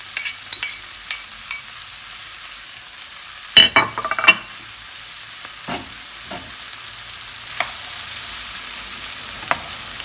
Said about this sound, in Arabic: شوية تنحمس الطماطم والفلفل